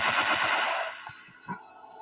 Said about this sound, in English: if I shoot this zombie